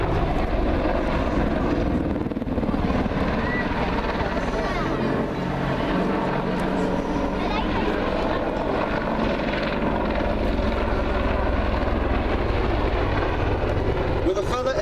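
Apache attack helicopter flying a display at the Duxford Air Festival 2017, its rotor and engine making a loud, continuous throbbing roar that stays steady throughout.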